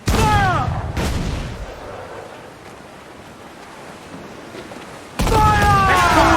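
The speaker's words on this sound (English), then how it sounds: "They are firing, sir! Here it comes! Enemy fire!" Ship cannons fire in Assassin's Creed IV Black Flag at sea: loud booming blasts open and close the clip over steady wind and surf, with a quieter rushing stretch of water in between.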